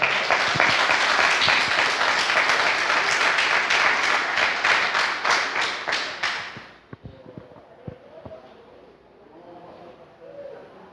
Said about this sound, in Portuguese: Uma salva de palmas novamente, por favor.